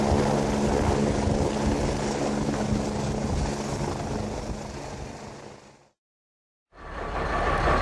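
A helicopter's rotors roar loudly and steadily on an airport apron, the engine whine and thumping blades continuous before cutting out briefly and returning.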